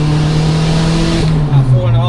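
A 500bhp Toyota Celica GT-Four with a big turbo accelerating hard, its engine a loud, close, sustained rising drone that climbs in pitch, heard from inside the car without talk over it.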